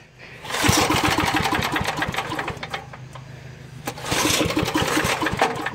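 Toro Whirlwind lawn mower engine running warm, a loud close steady putter with fast regular firing pulses that dips briefly before surging back up, no talk over it.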